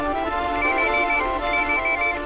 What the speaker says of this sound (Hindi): नैना पहले तुम फोन सुनो।